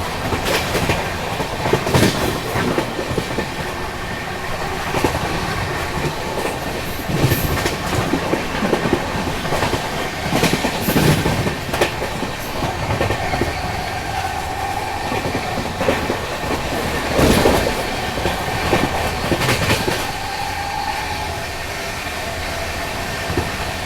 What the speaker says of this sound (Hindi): और यहाँ पे अपनी ट्रेन स्किप कर रही है कुप्पम रेलवे स्टेशन को।